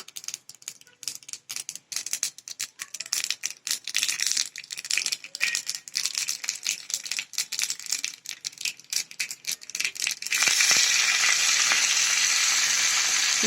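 Mustard seeds and curry leaves crackle in hot oil for a tadka, a dense stream of sharp pops that gives way to a steady loud sizzle near the end.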